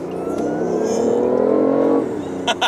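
A BMW i8 hybrid supercar accelerates hard, its engine note rising steadily in pitch from the cabin for about two seconds before easing off, loud and close, with brief other sounds near the end.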